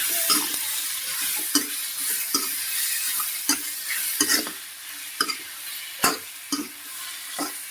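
Crushed potatoes, pounded on a grinding stone, are stirred and fried in a pan in a village kitchen: a soft sizzle runs underneath while a spoon scrapes and knocks at irregular intervals, close and moderately loud.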